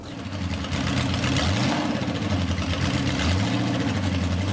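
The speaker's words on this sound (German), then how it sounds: "Die Porsche-Motoren erkennt man schon von Weitem am Klang" Porsche engine running at a Porsche Museum sound night event, a loud, steady low rumble with a slight rise and fall in pitch, continuous throughout with no talking.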